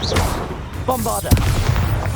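Bombarda spell explosion in the Hogwarts Legacy video game, a sharp booming blast amid game combat noise, with a brief voice shout just before the impact.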